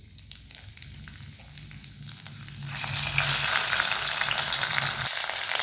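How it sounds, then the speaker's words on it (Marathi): Ginger, garlic and coriander paste frying in oil with cumin, bay leaf and curry leaves makes a close, steady sizzle that grows sharply louder and denser partway through and keeps hissing. "अद्रक लसूण आणि कोथिंबीर छान तेलामध्ये भाजून फ्राय करून घ्यायचं आहे 2 मिनिटं"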